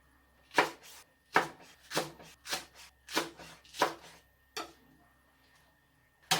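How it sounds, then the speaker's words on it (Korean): A knife cuts green onion into large diagonal pieces on a board, giving eight or so sharp, evenly spaced chops, close and distinct, with short pauses between strokes. "어슷 썰어서 그냥 좀 큼직큼직하게요."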